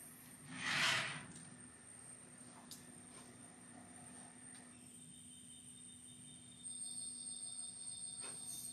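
Model train rolling along its track, a steady faint running hum with a brief louder swell near the start and a slight rise in level toward the end, no talking.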